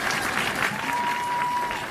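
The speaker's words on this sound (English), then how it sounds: "yeah, that's worth clapping for" Audience applause at a CUNY keynote event, steady dense clapping from a large crowd filling the whole stretch at even loudness, with a faint tone running underneath.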